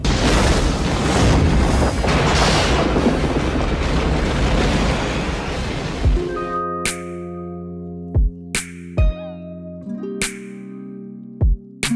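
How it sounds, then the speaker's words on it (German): A roaring explosion-transition burst triggered from an EVANS Sensory Percussion drum kit rumbles for several seconds and then cuts off abruptly, followed by sparse tonal hits and pops. "Explosionstransition"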